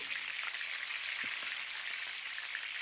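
Black mustard seeds, fennel seeds and chopped green chillies frying in hot oil, a steady fine sizzle and crackle with scattered soft pops, moderately quiet and without talk.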